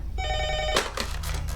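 A telephone rings briefly with a bright electronic trill, then is cut off by a rustle and a short clatter, as if picked up.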